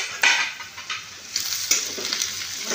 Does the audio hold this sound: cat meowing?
no